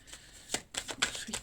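Tarot cards being shuffled by hand, a few quick riffling flicks and slides of card stock, close and soft with no talking.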